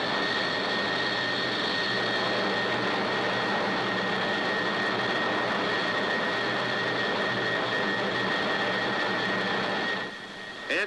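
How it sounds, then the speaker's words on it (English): An aircraft in high-speed flight past its critical Mach number buffets, heard as a loud, continuous roaring rush of engine and airflow noise that holds steady throughout and dips briefly near the end. "soon after M crit is exceeded, the aircraft starts to buffet violently"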